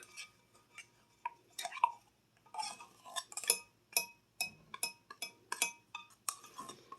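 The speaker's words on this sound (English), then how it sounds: "Get all that out of the can" A spoon scrapes and clinks against the inside of a metal can of condensed milk in a kitchen, producing a series of sharp, irregular metallic taps and scrapes with short pauses between them.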